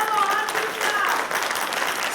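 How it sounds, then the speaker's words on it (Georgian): An audience claps together in a sustained burst of applause, dense and close, filling the short moment without a break. "აპლოდისმენტების თანხლებით."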